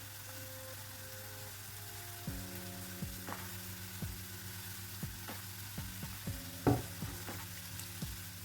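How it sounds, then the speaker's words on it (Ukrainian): Steady sizzling of carrot and onion frying in a pan, close by, with occasional clinks and scrapes of stirring. "Поки смажиться морква з цибулею"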